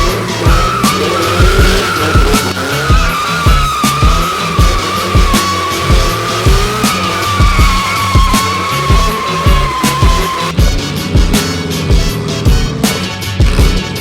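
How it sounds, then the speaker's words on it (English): A 600hp Toyota Supra MK4 sports car revs and tires squeal repeatedly as it pulls into a garage, engine droning loud and close for several seconds with no voices. "you guys want to see how I pull this car into the garage?"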